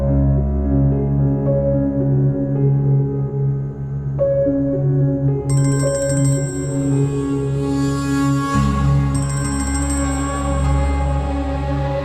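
A phone ringtone plays a loud, repeating melodic pattern for several seconds with no answer, layered over sustained background music in a dramatic TV scene.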